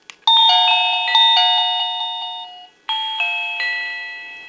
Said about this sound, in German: dann kann ich weiter die Türklingeltaste drücken